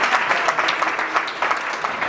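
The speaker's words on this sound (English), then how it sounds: "Can we give him a big applause?" An audience claps at a gathering at the Louisville Central Community Center, a dense, continuous wash of many hands at a steady, moderate level with no voices on top.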